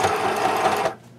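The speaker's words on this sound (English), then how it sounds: "If you want to just, you know, sew it by just going straight across," Sewing machine stitching straight across fabric for a travel case belly band: a steady, close mechanical whirr of rapid stitching that runs evenly for about a second, then stops abruptly.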